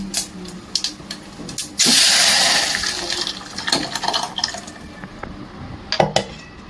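Water used to rinse a blender jar lid pours steadily into a cooking pot for a few seconds, with clinks and knocks of utensils before and after.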